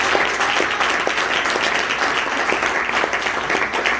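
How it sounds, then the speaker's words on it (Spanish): Church congregation clapping their hands in praise, a steady dense wash of applause from many people throughout, with no talking over it. "Denle palmas a Dios."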